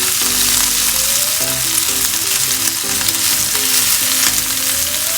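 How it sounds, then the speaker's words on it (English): Shrimp and mushrooms sauté with pesto in a hot pan, giving a loud, continuous sizzle and hiss. Soft stirring sounds rise underneath, and faint music plays in the background. "Just saute that with the shrimp and the mushroom."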